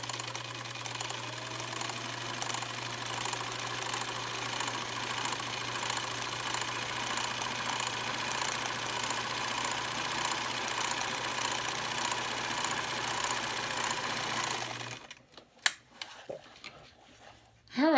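A sewing machine runs steadily, stitching a wavy zigzag pattern, its loud, even mechanical whir continuing for about fifteen seconds before stopping abruptly, followed by a few quiet clicks and handling sounds.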